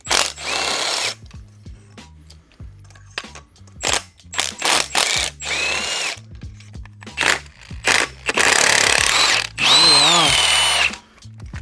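Spark plugs being removed from a VQ35DE engine with a power tool: loud, close bursts of a whirring drill or impact driver, some short and some sustained, separated by clinks and handling of metal parts, with no talking.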